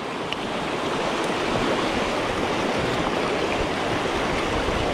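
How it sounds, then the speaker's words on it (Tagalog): Strong river current at Kinabuan Falls, a steady broadband rush of fast-flowing water that stays loud and continuous throughout, with no voices. "Lakas ng agos ha."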